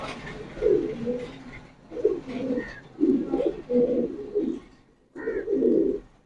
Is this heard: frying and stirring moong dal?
no